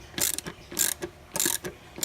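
A 10mm socket on a ratchet clicks in quick bursts, four separate ratcheting runs as the valve cover bolt is turned, crisp and close with no voices.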